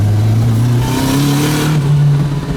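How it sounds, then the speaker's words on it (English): A turbocharged Nissan-swapped Honda engine pulls under way with a rising, rasping wastegate flutter and exhaust note, loud and close throughout the short stretch. "God, that wastegate sounds horrible."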